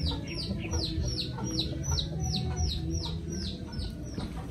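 A Darag hen clucks in a fast, repeated series of close, bright calls over a steady low rural background, roughly a dozen notes in a regular rhythm, with no talk.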